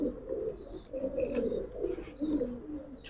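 Giribaz pigeons coo softly in a loft, several low, repeated throaty calls close by, with faint chirps above them.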